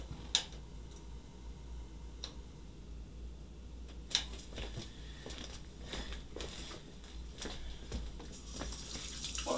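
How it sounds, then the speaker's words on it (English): Tap water runs into a sink during handwashing as a soft, continuous splash, joined by scattered taps and knocks. Cooking the gravy on medium heat is the setting. "Wash the old hands here."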